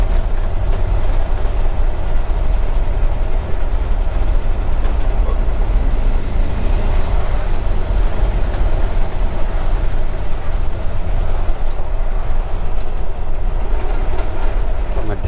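A 1951 Ford F-1 pickup cruising in high gear with two adult passengers aboard, its engine giving a loud, steady low drone with constant road rumble from inside the cab.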